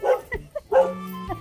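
A dog gives a few short barks and yips up close, with brief gaps between them.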